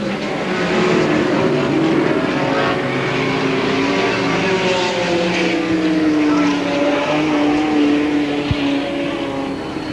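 Midget race cars from the 1990 Belleville Midget Nationals roar through a corner on the oval, several engines layered in a loud continuous drone with shifting pitch as they pass close by.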